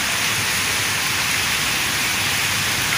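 A heavy downpour in a Pakistani Punjab village, a constant loud wash of rain striking the ground and roofs, with no voices.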